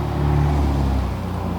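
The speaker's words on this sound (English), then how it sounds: "just waiting for the car to pass by" A car passes nearby with a loud, steady engine hum and low rumble that eases slightly toward the end, and no talking over it.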